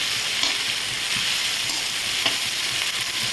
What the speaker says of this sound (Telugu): ఇవైతే ఇప్పుడు ఇలా ఒకసారి తిప్పుదామండి.